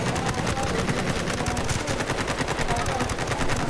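Rapid, continuous automatic gunfire from the video game Ghost Recon Breakpoint, a dense unbroken stream of shots that stays loud and close for the whole stretch.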